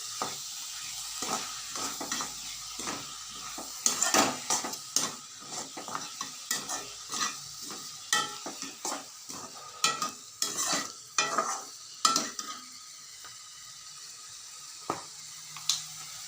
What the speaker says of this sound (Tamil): ரெண்டு தக்காளியை மிக்சியில் அடித்து அதையும் போட்டு வதக்கணும்